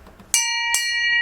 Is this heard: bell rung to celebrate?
yes